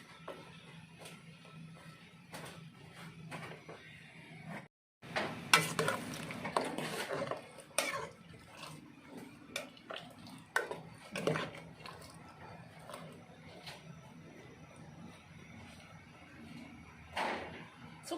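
Mushroom curry made with yanang leaf juice and tiew vegetables bubbles in a pot, with stirring and clattering utensil knocks across a steady low simmer, close and fairly quiet, plus a brief pause midway.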